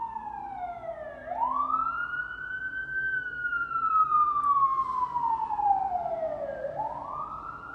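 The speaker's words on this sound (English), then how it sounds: "I am not finishing with the siren" A wailing emergency siren rises and falls in long sweeps, moderately distant, with low traffic rumble beneath.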